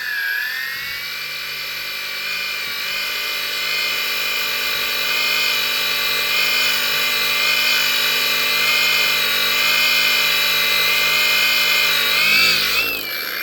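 A power tool polishes a meteorite set on the ground, giving a loud, steady, high-pitched whine that holds for about thirteen seconds and wavers slightly near the end, close and alone.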